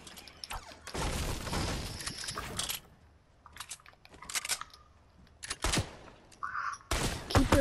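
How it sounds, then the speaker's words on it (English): Sniper gunfire in a video game, sharp cracks arriving in several separated bursts with quiet gaps between, fairly close and loud, mixed with brief mechanical clatter. "Oh, we're getting sniped at?"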